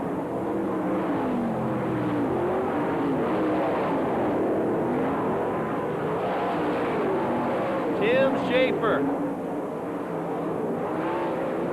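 Race cars at the All Star Circuit of Champions Winternationals in Gibsonton, Florida, with a continuous engine roar and passing revs under a commentator's ongoing play-by-play.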